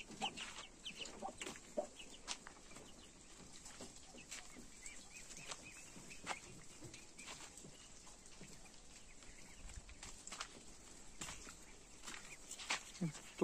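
Hens with chicks cluck softly amid a busy, faint farmyard backdrop with ducks, with scattered clicks and chirps throughout and no clear voices.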